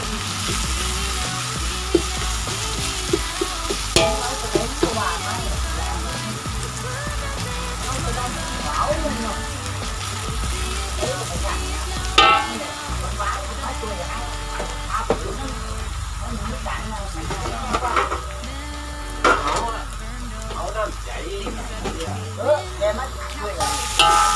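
Thai curry paste stir-fried in oil for a sour soup crackles and sizzles continuously, with frequent scraping stir strokes up close and a person talking over the cooking at times.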